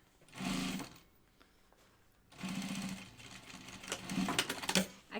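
A sewing machine stitches a Tamarack vest in quick mechanical bursts, three runs of rapid whirring separated by short pauses, close and fairly quiet.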